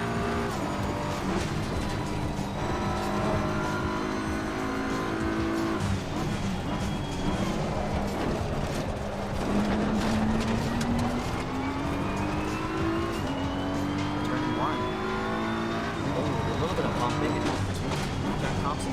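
Race cars roar around the Oulton Park circuit during a multiclass GT race with a Ginetta GT4 leading its class, engine notes rising and falling steadily as cars pass, with a voice speaking over the continuous din.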